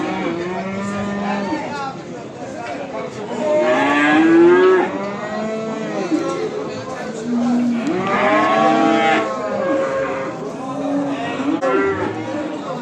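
Cattle at a livestock market in Beyləqan, Azerbaijan, where young bulls are sold, moo repeatedly in long, loud, drawn-out calls that overlap one another over a steady background murmur.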